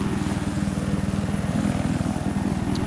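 Steady rhythmic rotor chop and engine drone of a helicopter flying in the game Battlefield 4, close and continuous with no talk over it.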